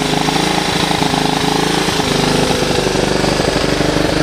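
A Honda ATC 125 three-wheeler engine runs loud and close, a fast, rough, rattling putter held steady throughout with no voices over it.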